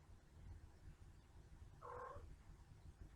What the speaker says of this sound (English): So background noise, that's my cat.